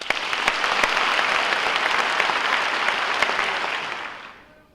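A crowd applauds loudly and steadily for several seconds, the clapping fading out at the end.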